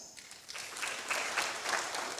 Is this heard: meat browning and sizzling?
no